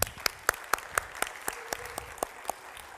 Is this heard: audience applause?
yes